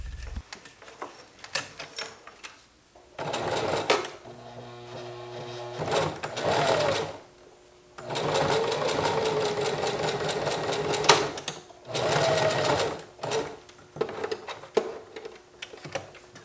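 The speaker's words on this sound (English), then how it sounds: "And here I'm sewing the cork fabric to the zipper." A Singer Heavy Duty sewing machine stitches cork fabric to a zipper, running in loud, close mechanical bursts of rapid needle chatter separated by short pauses, with no talking.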